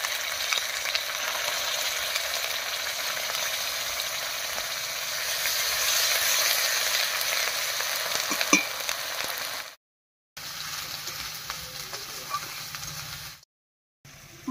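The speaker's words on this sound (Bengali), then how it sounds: "মশলাগুলো দিয়ে একটু নাড়িয়ে নিয়েছি।" Onion, cumin, coriander and dried chili pastes frying and being stirred in a pan while cooking rui fish curry, a steady close sizzle with scraping strokes, broken by two brief silent gaps.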